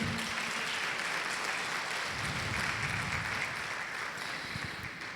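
A church congregation applauds during a women's service, a dense continuous wash of clapping that stays fairly loud and even before slowly tapering toward the end.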